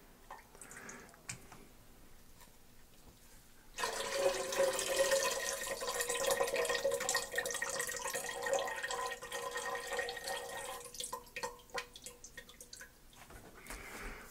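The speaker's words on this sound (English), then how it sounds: "put them in a separate bowl, and then pour in the liquid" Pineapple and orange juice pours steadily into a bowl for several seconds while making melomel, a continuous splashing stream that begins abruptly and tapers off, with faint drips before and after.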